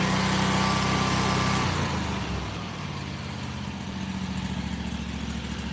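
A Harbor Freight Predator V-twin engine runs at full throttle, a steady loud droning roar with a strong low hum that eases slightly partway through and then holds.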